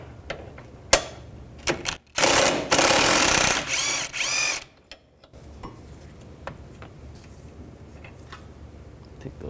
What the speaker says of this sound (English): Use a 18mm wrench and then a 15mm socket on the bottom.